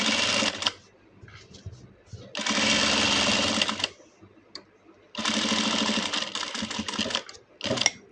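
A sewing machine top-stitches a churidhar pocket in three loud, fast bursts of rapid stitching, close up, with short quiet pauses and small clicks between the runs.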